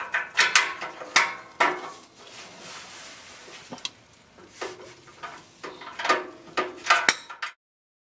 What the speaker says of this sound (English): I used a 14mm box wrench and a 12mm ratcheting wrench on the upper fastener on the left.